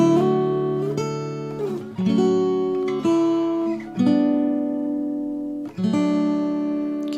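Fingerstyle guitar plays a piece from the Lord of the Rings soundtrack: slow, gentle plucked notes and chords ring out one after another, sustaining and fading between each new attack.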